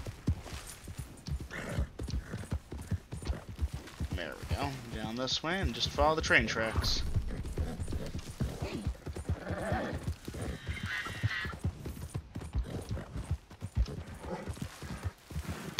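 Horse hooves clip-clop in a steady walking rhythm in Red Dead Redemption 2, with an occasional whinny, while someone talks over the game sounds throughout.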